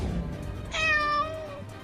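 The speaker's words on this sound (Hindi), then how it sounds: "एक छोटी सी बिल्ली हमारे पीछे पीछे आ रही है।" A single clear meow from a small cartoon cat, short and close, rising then trailing off over faint background noise.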